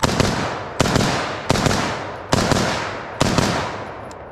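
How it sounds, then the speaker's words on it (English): An HK G36 replica blaster (TG36) fires five sharp, loud shots spaced close to a second apart, each a crisp crack with a short decaying tail, up close with no talk. "let's actually get some more shooting in"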